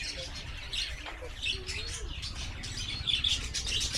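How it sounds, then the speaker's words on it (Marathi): A tree full of nesting birds gives off scattered bright chirps and tweets, with an occasional squawk, heard near a temple in a fairly quiet outdoor setting. "खूप चिवचिव करतात."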